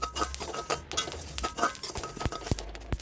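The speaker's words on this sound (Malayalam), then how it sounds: "മൂത്ത് വരുമ്പോൾ ഇത് പൊട്ടി വരും, അതുവരെ വറുക്കാം." Seeds dry roasting in a pan, with scattered quick pops and ticks and light scraping from stirring, close and fairly soft.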